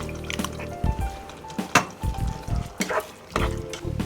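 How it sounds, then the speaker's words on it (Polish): Water pours into a pan in short bursts, splashing and sizzling faintly, with kitchen clatter between the pours. "Doleję odrobinę wody."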